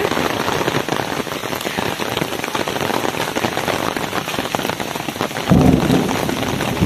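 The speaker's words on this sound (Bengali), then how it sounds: "সামনেটা পুরো মেঘ হয়ে রয়েছে, তার মধ্যে বৃষ্টি পড়ছে, দুর্দান্ত লাগছে।" Heavy rain pours steadily under a fully clouded sky near Mawlynnong, with a dense, close patter throughout. A deep roll of thunder rumbles in near the end.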